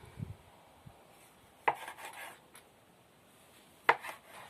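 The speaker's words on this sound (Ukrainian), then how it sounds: "Отаку нарізаю. Теж туди томатики." A knife chops tomatoes on a cutting board in a few isolated, sharp knocks spaced seconds apart, in a quiet room.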